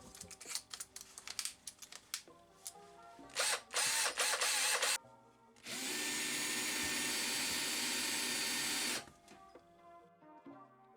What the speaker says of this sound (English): we drill a hole in the lid